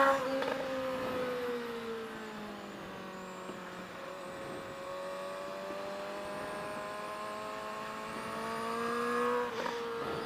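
A car engine holds a steady, droning rev for several seconds to warm up the tires, with a slight swell in pitch and loudness toward the end and no talk over it.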